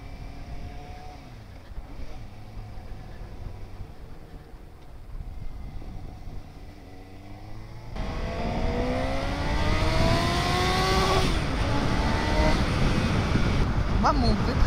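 A motorcycle at a Grand Prix revs and climbs through the gears, its engine note rising in repeated sweeps that grow louder in the second half, with a brief spike near the end; background crowd-like noise persists throughout.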